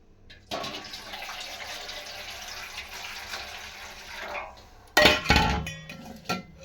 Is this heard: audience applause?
no